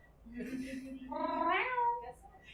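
A player mimics a cat's meow for a druid who has turned into a cat during a tabletop game session, one drawn-out rising and falling cry, fairly soft and close, with faint chatter around it.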